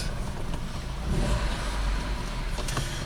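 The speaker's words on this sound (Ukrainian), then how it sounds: "Задня передача їде назад." A Mercedes W124 car rolling backward in reverse gear, its engine a low steady rumble that swells slightly midway, heard close with some wind noise and no talk.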